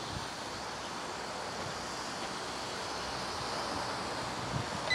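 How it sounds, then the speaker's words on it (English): Steady wind noise rushing across the microphone outdoors while a Litehawk High Roller quadcopter flies, a broad continuous roar that builds slightly toward the end, with no voices. "It is a bit windy out here."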